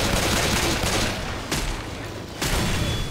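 Rapid gunfire in Left 4 Dead as survivors shoot at zombies: dense, loud sustained bursts with brief pauses between volleys, close and continuous.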